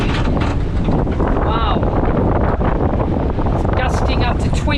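Strong wind gusts roar across a sailboat under sail, loud and continuous with buffeting microphone wind noise and faint water wash, while a voice talks over it.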